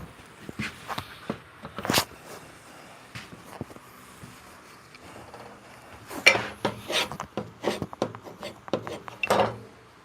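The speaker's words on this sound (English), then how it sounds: "Let me get this tape off and we'll run it through." Tape being peeled and scraped off a handmade wooden box, heard as irregular rasping tears and rubs with sharp clicks and knocks, moderately close and fairly quiet, with no talk.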